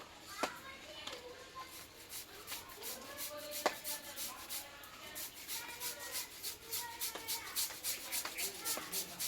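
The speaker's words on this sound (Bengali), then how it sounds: "এই আলুটা আমি গ্রেট করে নেব" A large raw potato is rubbed against a grater in a kitchen, producing soft rhythmic scraping strokes that grow steadier and faster toward the end, with a voice talking quietly alongside.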